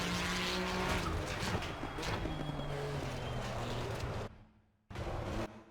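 Ferrari 296 GT3 racing car in Assetto Corsa Competizione at full throttle, a loud sustained engine roar with rising tonal harmonics and some tire noise, cutting out briefly near the end before returning.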